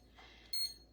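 A kitchen timer being set gives one short, high electronic beep in a quiet room, preceded by faint handling sounds.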